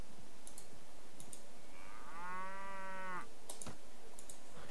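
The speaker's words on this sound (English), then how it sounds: "Cattle herd! Drive the cattle onward." A single drawn-out cow moo from a cattle herd in the video game Mount & Blade, lasting about a second, heard over faint background hiss with a few soft clicks before and after.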